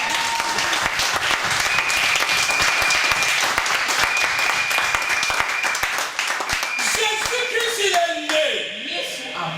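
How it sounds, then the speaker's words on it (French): A church congregation applauds loudly and steadily for several seconds. The clapping thins toward the end, where a voice and sustained tones come in over it. "Est-ce que l'église peut acclamer ça?"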